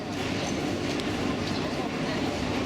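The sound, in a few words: local train ride in Yangon, Myanmar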